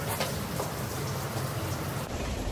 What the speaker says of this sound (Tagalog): Yung dinig na tulo ng tubig. Akala mo umuulan.